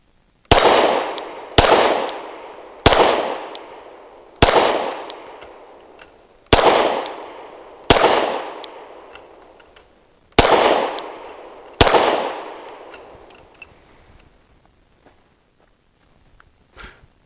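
Eight gunshots from an EAA Girsan Witness 2311 pistol, a Turkish import, fired with Winchester white box ammunition, loud sharp reports spaced about a second or more apart, each ringing out with a decaying echo, then quiet.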